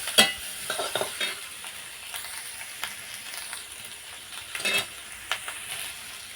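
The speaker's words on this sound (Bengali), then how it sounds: "একটা টমেটো কুচি টমেটো আর পেঁয়াজটা আরও কিছুক্ষণ আমি এইভাবে কষিয়ে নেব" Chopped tomato and onion sauté in a pan for a fish roe dish, giving a close, steady sizzle broken by repeated scraping strokes of a spatula, with no talking.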